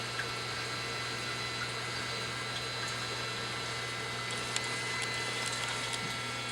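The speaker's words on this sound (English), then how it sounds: "there goes the auto top off right now" An aquarium auto top-off pump on a 235-gallon setup adds water to the sump, giving a steady, even hum mixed with soft trickling water that holds at a constant level throughout, with no talking.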